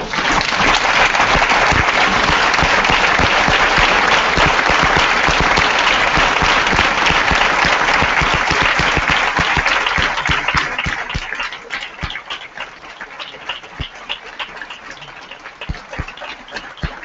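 An assembly audience at the 2014 BEST General Assembly in Bucharest breaks into loud, dense applause that holds for about ten seconds, then thins into scattered, fading claps.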